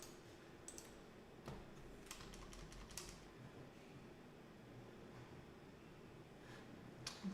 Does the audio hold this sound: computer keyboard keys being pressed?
yes